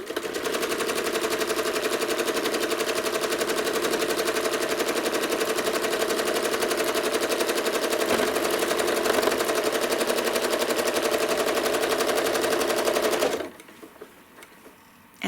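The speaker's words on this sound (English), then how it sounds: "I'm going to stitch the spout with switchbacks like I've done before." A sewing machine stitches the spout of a fabric egg cup with switchback stitching, a loud, close, continuous mechanical whir that runs steadily for about thirteen seconds before stopping abruptly.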